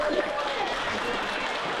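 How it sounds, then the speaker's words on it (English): Brief, moderately soft audience applause for the event coordinators at a community wildfire preparedness day, a steady indoor patter of clapping that lasts under two seconds. "if we could just start off by giving the two of them a round of applause"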